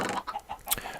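Chickens in the video game Minecraft cluck in a string of short, soft calls over about a second, fairly quiet and with no talk.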